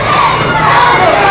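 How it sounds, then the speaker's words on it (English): A packed wrestling crowd screams and hollers at a tag-team match, a loud, continuous roar of many voices with shrill yells rising above it. "people are screaming and hollering so loud"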